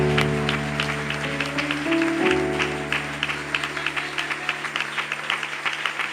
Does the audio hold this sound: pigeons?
no